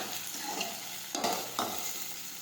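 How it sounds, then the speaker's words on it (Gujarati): Steady sizzling of ginger sautéing in a pan, with a couple of louder stirring scrapes partway through; no voices. "હવે આપણે આદું નાખી દઈશું ફરી પાછું સાતળી દઈશું"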